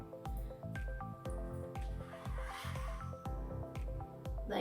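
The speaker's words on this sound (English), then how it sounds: "So I've got a spoon here to help spread the sauce on" Pizza sauce spread with a spoon onto small homemade pizzas makes soft wet squishes and drips, a quick run of close, quiet, sticky dabs.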